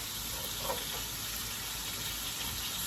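Salmon and shrimp sautéing in a pan: a steady, faint sizzle and hiss with no talk over it.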